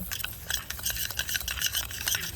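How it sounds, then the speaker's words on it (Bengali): A spoon stirs and scrapes a small bowl of coffee face pack mixed with aloe vera gel, giving a soft, continuous rubbing and light clinking close by. "এবারে এই তিনটে উপকরণ ভালো করে মিশিয়ে নেব"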